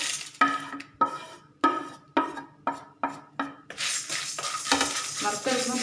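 Mustard seeds, urad dal, curry leaves and shallots fry in a hot pan for a curry. A spoon scrapes rhythmically at first, then a bright, continuous sizzle builds up close to the microphone.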